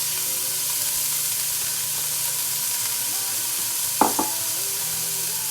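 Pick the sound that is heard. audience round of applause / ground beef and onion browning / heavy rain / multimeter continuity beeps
ground beef and onion browning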